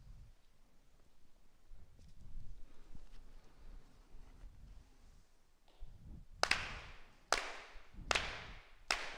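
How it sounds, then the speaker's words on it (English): Four sharp ritual hand claps at a Konko Shinto memorial service, evenly spaced and close, following a quiet stretch of soft room noise and low murmurs. "4 sincere claps."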